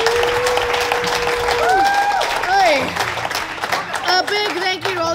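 Restaurant crowd at a deep-dish pizza eating challenge breaks into applause and cheering, steady clapping under loud whoops and voices talking nearby.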